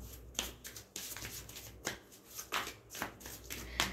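Tarot cards are shuffled close up in quick bursts of riffling and flicking, with soft slaps as the deck comes together, about eight short bursts over a few seconds, with no speech.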